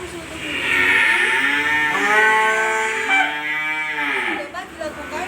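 Beef cattle mooing during a livestock health check, with one long, loud, close moo stretching over several seconds and no talk over it.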